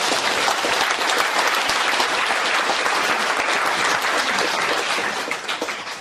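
Lecture audience at a Korean humanities forum bursts into loud, sustained applause, dense clapping filling the room throughout and tapering slightly at the end.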